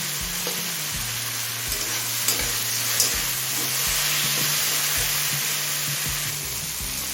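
Tomatoes frying in a kadai for chicken ghugni with green peas, a loud, dense sizzle running steadily, with spoon scrapes and taps as they are stirred.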